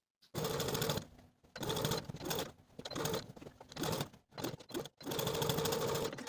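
A sewing machine stay stitches a 1940s-style blouse yoke neckline in several close, steady runs of rapid mechanical stitching, briefly paused between bursts.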